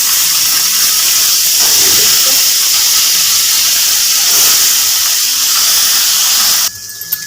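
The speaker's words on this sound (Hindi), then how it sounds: "तो मैं इसमें आलू ऐड कर दूँगी" Potatoes frying with ginger, garlic and chilli in a village-style drumstick curry, giving a loud, steady steamy hiss that runs continuously before cutting off abruptly near the end.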